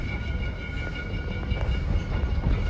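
An 1880 heritage steam train at Keystone, South Dakota rumbles and rolls with a steady clatter of wheels on rails and a faint high tone over the noise, close and continuous, slowing toward a stop with no talk.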